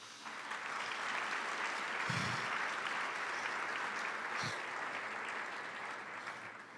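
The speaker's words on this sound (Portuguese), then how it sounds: "Uma salva de palmas, por favor." Church congregation applauding in a steady, sustained wash of clapping that fills the room, with no talk over it and a couple of brief low thumps partway through.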